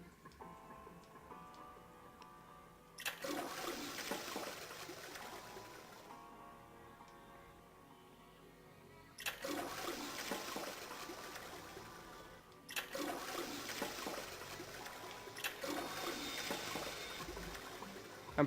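An old, grimy toilet in the game 999 flushes in three loud bursts of rushing water, each lasting a few seconds and separated by quieter ticking room ambience.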